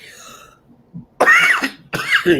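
Two harsh, close coughs burst out after a brief faint sound, loud and raspy with a short pause between them.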